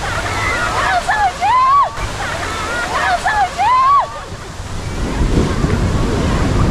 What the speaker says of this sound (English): The waves are coming so high.